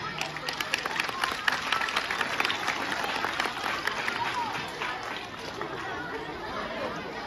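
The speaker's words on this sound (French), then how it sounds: "Je voudrais que l'on applaudisse bien très fort tous nos lauréats." A crowd applauds prize-winning pupils at a school excellence ceremony, sustained clapping mixed with loud chatter and voices throughout, fairly close and continuous.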